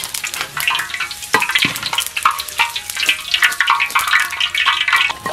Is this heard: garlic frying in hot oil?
yes